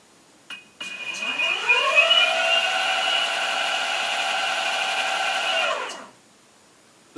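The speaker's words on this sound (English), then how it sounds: "The brake jammed it on." A Chargiot Bomb 2400W electric skateboard braking hard gives a loud, steady electric motor whine that sweeps down then holds level for about five seconds before cutting off, with no talking.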